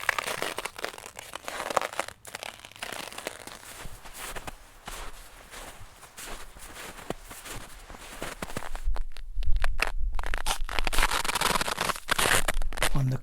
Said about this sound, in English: Sometimes a crust will build up to produce a crunchy quality, or even several crusts separated by layers of powdery snow, giving variations of dissonance with each step.